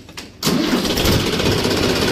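A tractor engine cranks after a brief quiet moment, then catches and settles into a loud, steady diesel rumble that fills the rest of the clip, with no talking.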